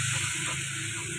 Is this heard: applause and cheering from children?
no